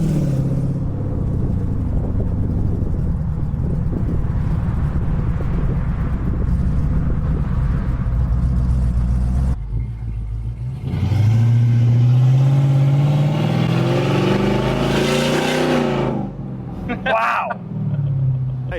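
A 2014 Jeep Grand Cherokee engine idles loudly, then revs up with a rising roar and drops back, close by, with wind buffeting the microphone.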